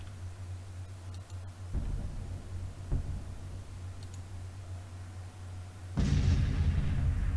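Artillery bombardment in a Civil War strategy game, heard as a steady low rumble with scattered booms and clicks, swelling into a louder, heavier blast near the end.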